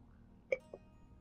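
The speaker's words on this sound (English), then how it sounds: "This poor fucking burp." A short, soft burp with a brief throaty pulse and a fainter follow-up sound, heard close and quiet against near silence.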